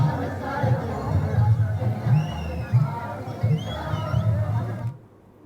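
Dense crowd murmur at the Devlang festival in Gair village, a temple courtyard gathering, with overlapping chatter and occasional raised voices filling the space steadily before cutting off abruptly near the end.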